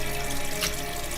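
Shrimp meant for plain blanching is rinsed under a running kitchen tap, giving a short, steady hiss of flowing water close by with no talking.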